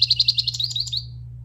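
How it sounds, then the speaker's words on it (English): Recorded bird call played from a button on a children's sound book: a rapid series of about a dozen high chirps over roughly one second, slowing and fading, with a steady low electronic hum underneath. "It's the actual sounds that the animals make"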